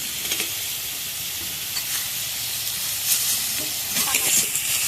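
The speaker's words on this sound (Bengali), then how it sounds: "এবারে চিংড়ি ভেজে রাখা চিংড়ি মাছগুলোকে দিয়ে দিচ্ছি" Fried prawns go into a sizzling pan for an arum stem and prawn curry, a steady hiss of frying with scattered clinks and scrapes of stirring throughout, close and fairly loud.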